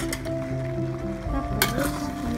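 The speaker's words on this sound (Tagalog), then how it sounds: "nilalagay ko na ang ating macaroni" Macaroni is stirred into a hot pan, with a steady sizzle and frying crackle, soft scraping and a couple of clinks of utensil against metal, all close up.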